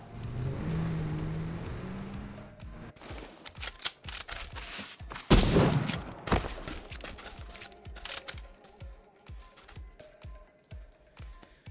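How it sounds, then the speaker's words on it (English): Rapid volleys of gunfire crackle through a battle royale video game firefight, sharp shots stacking into dense bursts with one especially loud cluster midway, continuing steadily until the end. "a lot of shots going in here"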